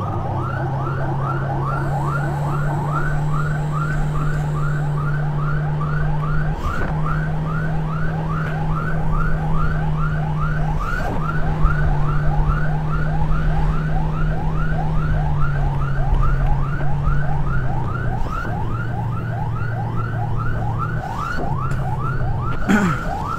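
A fast warbling ambulance siren wails steadily and continuously over a low constant engine drone on a village road, close and loud throughout.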